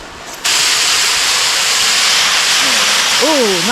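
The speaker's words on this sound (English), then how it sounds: "Oh, nice spring shower. Thunderstorm, okay. Wind-driven rain." Wind-driven rain from a spring thunderstorm shower hits a tent, starting abruptly and then holding as a loud, steady, dense hiss, with a brief wavering tone rising and falling near the end.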